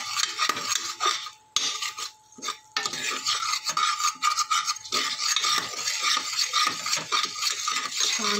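Rice and peanuts scrape and rasp as they are stirred and roasted in a pan, a steady, loud, continuous scratching with brief pauses and no talk.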